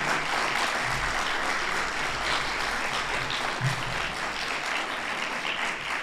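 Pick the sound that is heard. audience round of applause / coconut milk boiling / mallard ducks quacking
audience round of applause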